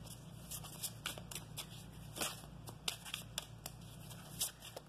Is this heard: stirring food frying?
no